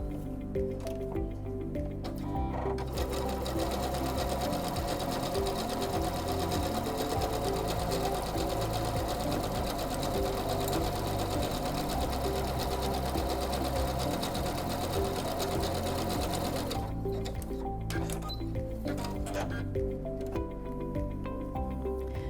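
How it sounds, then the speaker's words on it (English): A SINGER C430 sewing machine runs continuously sewing a decorative feather stitch, a loud close mechanical whirring with rhythmic needle clatter that starts after a brief pause and stops near the end. "So let's sew that out first and see what that looks like."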